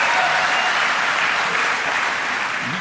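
A large audience at an Alcoholics Anonymous convention in Macon, Georgia applauds. The clapping is dense, loud and unbroken, holding steady throughout with no speech over it.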